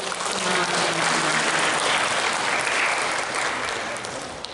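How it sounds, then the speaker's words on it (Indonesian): An audience at a university teacher oath-taking ceremony applauds the new teachers, a dense sustained round of clapping from a large crowd that holds steady for several seconds before easing slightly at the end. "Kita bisa berikan aplaus untuk semangat mereka."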